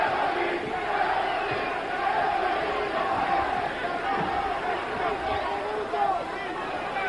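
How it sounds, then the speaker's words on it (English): A boxing crowd in the final round of the Victor Galindez vs Eddie Gregory fight chants and roars for Gregory, a dense, continuous wall of voices that swells and dips slightly and never drops out. "Crowd chanting for Gregory again."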